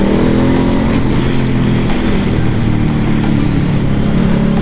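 A Honda Africa Twin motorcycle with a Cordona quick shifter runs loud and close as it shifts gears, with a steady engine drone and brief changes in pitch but no talk.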